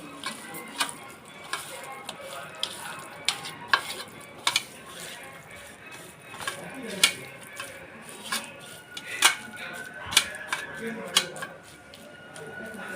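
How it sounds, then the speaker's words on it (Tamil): Raw chicken is mixed and kneaded by hand with masala and a little colour powder, making repeated wet squishing and slapping sounds in an irregular rhythm, close to the microphone. "நல்லா பிசைஞ்சுக்கோங்க"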